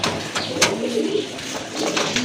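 Silver pigeons coo close by in soft, low, throaty rolls over a light background hiss, with a brief flutter-like burst partway through.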